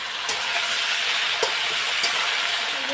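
Cauliflower and potato pieces frying in a pan with salt and turmeric, giving a steady close sizzle with a few sharp spatula scrapes as they are stirred.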